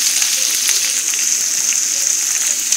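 Rice fries in a pan with a constant, bright hiss and crackle that stays even and fairly loud through the short stretch, and no one speaks.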